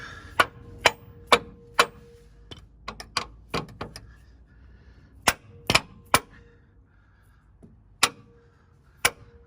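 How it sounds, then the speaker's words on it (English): Sharp metallic hammer taps on a steel steering sector shaft brace bracket being set flush against a 2009 Jeep frame, about a dozen irregular close strikes with pauses between, no talking. "I'll tap it in a little bit more with the hammer, get everything flush."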